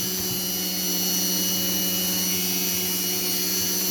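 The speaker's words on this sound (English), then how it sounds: "Bloody Dremel." A Dremel rotary tool runs continuously while making jewelry, a loud, steady high-pitched whine with a constant motor hum throughout.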